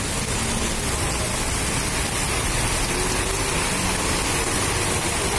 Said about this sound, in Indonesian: hari ini atau sore ini terminal Grogol diguyur hujan ya